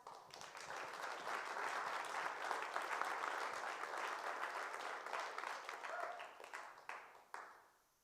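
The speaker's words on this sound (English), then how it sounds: "So let's give them a big round of applause." An audience at a cabaret show gives a big round of applause, a full and even clapping that swells, holds for several seconds, then tapers away to quiet.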